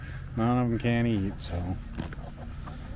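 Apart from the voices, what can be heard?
chickens clucking on a homestead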